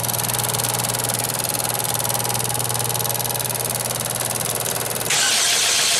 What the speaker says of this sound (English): All right, it cranks.